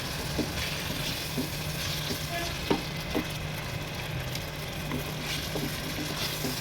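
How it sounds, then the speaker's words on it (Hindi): Steady sizzling of chicken and onions frying in a pan, with occasional soft clinks and stirring sounds over the constant crackle. "मैंने चिकन को है प्याज़ों में ऐड कर दिया। अब मैं इसको अच्छी तरह भून लूँगी।"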